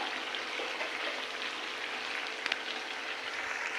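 Mutton sautéing in hot oil for biryani gives a steady, close hiss of sizzling with faint stirring ticks and no talking.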